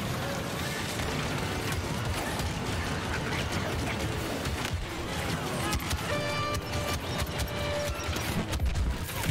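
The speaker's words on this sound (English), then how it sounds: "I think it was an explosion that got me in the end" Dense battlefield din from Star Wars Battlefront II, with rapid gunfire, crashes and explosions layered continuously and loudly throughout, no pause in the chaos.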